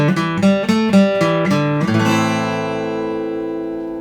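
A short guitar riff from a song leading into the next verse: several picked notes in quick rhythm, then a strummed chord left ringing out and slowly fading.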